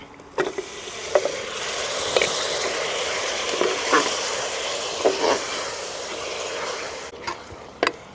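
Mutton frying in hot oil in a pan with fried coconut and coriander, a steady loud sizzle broken by a few sharp clicks of a spoon against the pan, with no voices.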